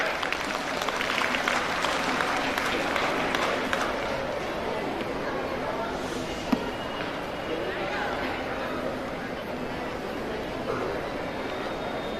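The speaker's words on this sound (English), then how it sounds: "Can I expect a huge round of applause?" Steady audience applause at an annual day celebration, a sustained wash of clapping from a large hall crowd, moderately distant and even throughout, with faint chatter underneath.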